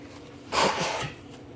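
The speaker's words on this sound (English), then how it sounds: "Blow my nose." A single forceful nose blow, a brief breathy honk lasting about half a second against quiet room noise.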